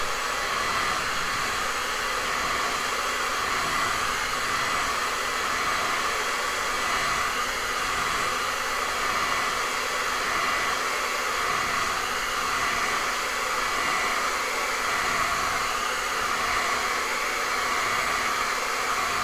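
A hair dryer blows steadily on a freshly varnished painting, a constant loud whooshing hiss with a motor hum that holds unchanged throughout, with no voices.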